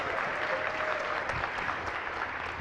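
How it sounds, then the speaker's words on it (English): A lecture audience in a hall applauds a presenter after a talk on decentralized naming and identities, dense steady clapping from many hands filling the whole stretch at an even level. "Let's give him a round of applause."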